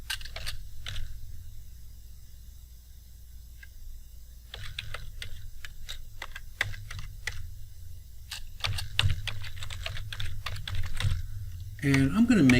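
A name is typed on a computer keyboard in bursts of quick, close key clicks with pauses between them, quiet against a faint room hum, ending with a louder clack.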